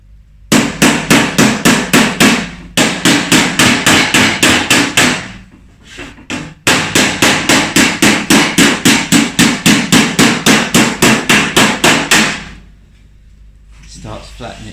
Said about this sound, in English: hold the dolly under the door skin flat, and where you go with the hammer, follow with the dolly